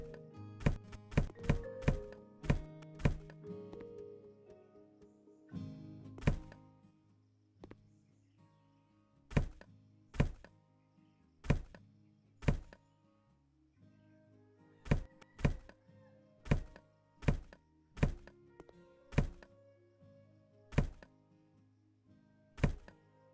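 Repeated sharp thunks from trash being removed in the video game House Flipper, a quick burst of rapid clicks at first, then evenly spaced single hits, close and distinct against a quiet musical background.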